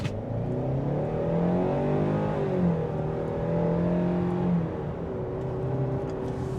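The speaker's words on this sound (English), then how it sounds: "I'm going to accelerate." A 2023 Kia Sportage LX accelerates from inside the cabin, its engine note climbing through the gears with a shift partway through, a moderate steady drone without talk.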